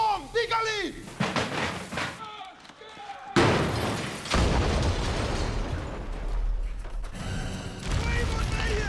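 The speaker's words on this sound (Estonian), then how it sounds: "Pomm! Pikali!" A bomb goes off in a war film set during the December 1924 uprising, a heavy blast with a sudden loud onset that rolls into a long rumbling roar, following shouted voices and earlier gunfire.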